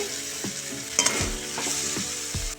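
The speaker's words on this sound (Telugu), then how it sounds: "సన్నగా కోసి పెట్టుకున్న మూడు ఆనియన్స్ ఇదంతా మంచి గోల్డెన్ బ్రౌన్ కలర్ వచ్చేంత వరకు ఫ్రై చేసుకోవాలి" Three thinly sliced onions fry toward golden brown in a pan, giving a steady sizzle broken by several clanking stirs of a utensil against the pan. No one speaks.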